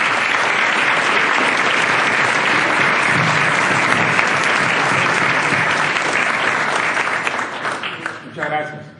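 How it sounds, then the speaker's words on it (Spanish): Loud, sustained applause from a large audience welcoming Mario Vargas Llosa onstage for a conversation event, a dense wash of clapping that fades near the end as a voice begins to speak. "les pido que reciban con un gran aplauso a Mario"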